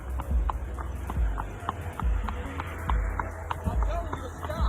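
Horse hooves clip-clop in a steady trotting rhythm on hard ground, close by, with faint voices murmuring in the background.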